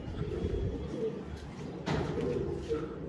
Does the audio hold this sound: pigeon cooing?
yes